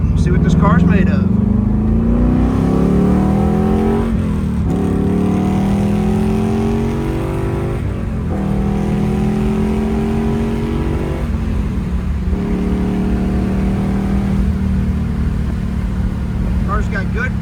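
A 1969 Chevrolet Camaro RS Z/28 with a 302 V8 revs hard and climbs in pitch through several gear shifts, loud and close, with a voice talking over it at times.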